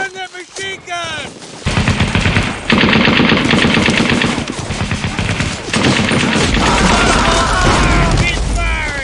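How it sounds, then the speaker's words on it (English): Sustained, loud machine-gun fire in the video game Brothers in Arms: Road to Hill 30, with rapid bursts running almost continuously under shouted voices and battlefield booms. "Get back on that machine gun."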